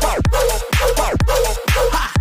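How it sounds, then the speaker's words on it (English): A growling, barking-type synth sample repeats in a heavy dubstep track, three loud punchy hits over a deep pounding bass rhythm with no voices. "That barking type sound is fucking dope."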